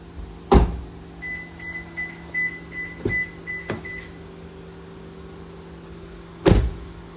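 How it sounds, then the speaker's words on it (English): Doors of a 2025 Toyota Camry LE Hybrid are shut one after another, three solid thunks heard with a pause before the last, over a low steady electronic chime and hum. "We'll listen to all the door thunks here."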